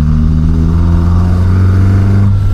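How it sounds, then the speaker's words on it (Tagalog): Steady Toyota 4A-G engine with individual throttle bodies running loud and close, a deep idle hum with rising harmonics as the revs climb slightly, no voices. "yung tunog ng 4AG"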